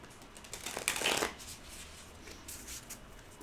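Tarot cards with red foil gilded edges shuffled by hand, a soft papery riffle and flutter, close and fairly quiet, with a brief louder burst followed by lighter rustling.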